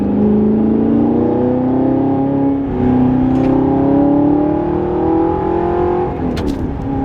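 A car engine hums and rises through the gears as it drives along a road, loud and close, with a brief rattle near the end.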